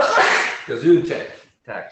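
A person sneezes in one sharp, abrupt burst during a tabletop Dungeons & Dragons session, close to the microphone, with people talking around it.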